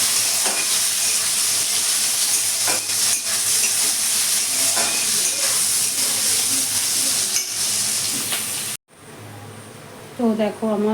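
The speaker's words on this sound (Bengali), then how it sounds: "তো দেখো আমার পেঁয়াজটা ভাজা হয়ে গেছে" Chopped onions fry and are stirred in a pan for a biryani, giving a steady close sizzle with scraping strokes of the spoon throughout. It cuts off briefly near the end before a voice speaks.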